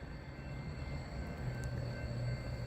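A train rumbles past at night in Henry County, Georgia, a steady low, continuous rolling drone with a faint high tonal whine above it, even in loudness throughout and heard at a moderate distance.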